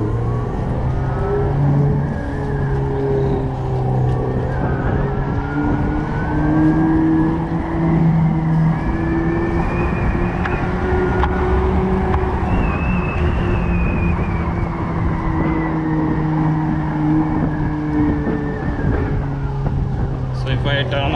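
A Revolt RV400 electric motorcycle's motor whines steadily at speed in sport mode, its tone rising and falling slightly under constant rushing road and wind noise.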